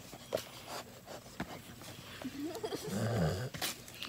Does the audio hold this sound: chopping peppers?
no